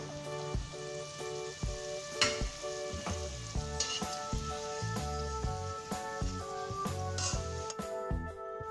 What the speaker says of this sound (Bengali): আলুগুলোকে ভালো করে নেড়ে চেড়ে ভেজে নিতে হবে।